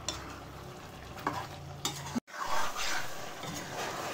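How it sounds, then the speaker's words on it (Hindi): Chicken with spices being stirred in a hot pan, a spoon scraping and clacking against the metal over a steady sizzle, close, with a brief gap midway and no talking. "इन मसालों को भी अच्छे से मिला लेती हूँ"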